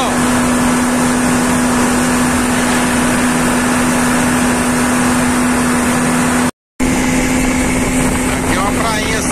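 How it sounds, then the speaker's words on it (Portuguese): Loud, steady roar of a boat engine running on the Paraná River, continuous and close with broad noise and a constant hum, briefly cut out once. "É o ronco do motor no Paranazão."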